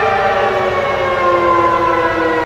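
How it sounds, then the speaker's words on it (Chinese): A loud civil defense siren sounds during the Wan An 46 air raid drill in Taipei, holding one steady droning tone for a couple of seconds before cutting off abruptly. "警报一响，台北市街头有如时间停止"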